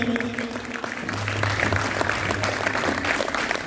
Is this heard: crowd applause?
yes